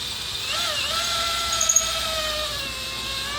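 A power tool reams out holes during a Toter Home rebuild, giving a steady close whine with a gently shifting pitch and a few brief squeaks partway through.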